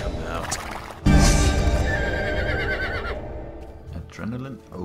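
Horse neighing in the Riders of Icarus video game, a loud shrill whinny bursting out after a second and trailing off, set amid game sounds with a voice speaking near the end.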